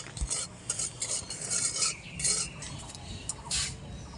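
Salt dry-roasting in a pan while a spoon stirs it, producing bursts of gritty scraping and rustling in an uneven rhythm, close up with no talk.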